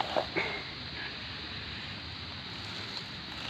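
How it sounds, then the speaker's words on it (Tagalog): Heavy rain falls on an outdoor rambutan orchard during fruit picking, making a steady, dense, close hiss. A couple of brief knocks sound near the start. "lumalakas na ang ulan"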